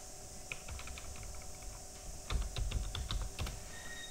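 Steady tapping on a computer keyboard while an accounting entry is typed up, clicks running in bursts that grow busier toward the end, close and moderately loud over a constant background hum.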